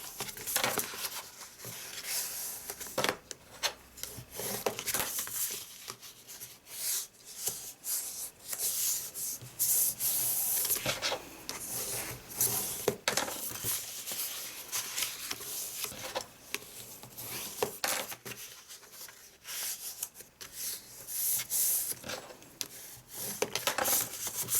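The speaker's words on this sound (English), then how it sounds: "we're going to burnish that on all 4 sides" A cardstock box piece is burnished on all sides for a reinforced card box, producing continuous close scraping and rubbing strokes in an irregular rhythm, with no talking.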